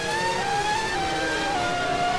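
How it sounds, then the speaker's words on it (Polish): A McLaren Formula 1 car with a Mercedes engine at the 2015 Monaco Grand Prix qualifying gives off a steady, loud, high-pitched engine whine whose tone shifts slightly as it moves slowly along. "jeżeli widzą Państwo tutaj wolno poruszające się bolid McLarena, to proszę pamiętać, że on ma silnik Mercedesa"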